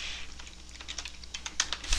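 Quick bursts of keystrokes on a computer keyboard while entering code in NetBeans, irregular clicks tapping close by at moderate volume with no voice over them.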